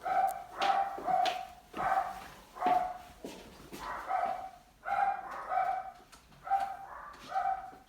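Dogs bark indoors in a steady series of sharp, close barks, roughly one or two every second, with brief yips between them.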